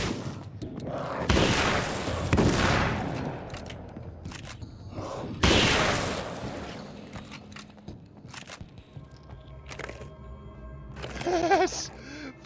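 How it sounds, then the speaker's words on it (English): A sawn-off shotgun blasts in Alan Wake's American Nightmare, with two loud booming shots a few seconds apart, each trailing off in a rumbling decay, followed by quieter game sounds and a faint warbling tone near the end. "Sawn off shotgun it is."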